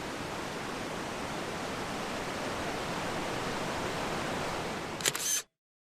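Golitha Falls on the River Fowey in Cornwall roars as a steady broadband rush of falling water, close and continuous, ending with a couple of sharp camera shutter clicks before cutting to silence.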